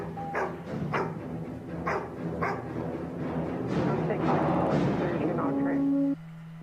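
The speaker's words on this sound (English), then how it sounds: "they got the doggy right there" A police dog barks in repeated sharp, loud bursts at roughly one-second intervals during a police chase, its barks mixed with background voices and a steady engine-like drone.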